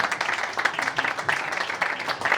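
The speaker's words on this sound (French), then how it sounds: "on peut applaudir Mannequin Peace." Audience clapping for a performer at a Belgian comedy show, a dense, steady patter of many hands at moderate level, with faint crowd murmur beneath.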